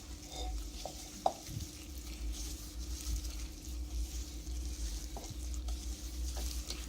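Raw chicken being mixed with cornflour powder for a chicken fry, a soft continuous stirring and sizzle-like hiss with a few light clicks from the utensil, close and fairly quiet, no talking.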